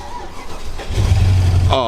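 A cheap Range Rover that had broken down cranks briefly, then its engine catches and settles into a low, steady idle close by, with a voice nearby.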